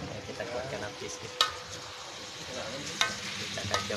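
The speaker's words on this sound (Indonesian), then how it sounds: "Oke, kita kuatkan api sedikit." Beef sizzles steadily in a hot pan over raised heat while a spatula stirs it, with a continuous frying hiss broken by several sharp scraping clacks of the utensil.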